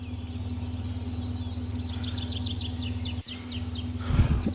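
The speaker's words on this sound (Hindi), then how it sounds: "पक्षियों की आवाज़ बड़ी मस्त लग रही है" Birds chirp and sing in a garden at Shri Anandpur Dham, with repeated quick high notes over a steady low mechanical hum and a faint rustle near the end.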